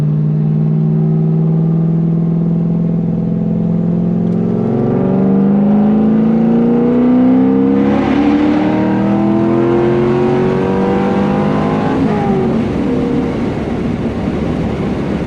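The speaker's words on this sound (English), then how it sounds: "I drive this car hard, so we're gonna make a pull and see how it does." A Chevrolet Corvette C5 V8 accelerates hard, engine pitch climbing steadily through the gears with a brief shift drop, loud and close throughout.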